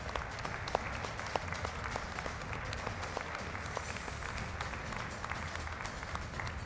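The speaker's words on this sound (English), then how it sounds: "Let's give them a round of applause." Steady applause from an audience at the Mr Gay World South Africa 2021 show, with dense clapping that holds at an even, moderate level throughout and no talk over it.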